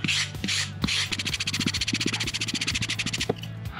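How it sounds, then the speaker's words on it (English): Sandpaper rubs a wooden race gate base smooth in quick repeated strokes, a rhythmic close-up rasp that speeds into a rapid scratching run, with no voices. "Sand that down just a little bit to make it smooth."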